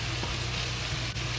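Cucumber, carrots and ginger stir-frying in a wok, a brief burst of steady dense sizzling with a low hum beneath and one sharp scrape near the end.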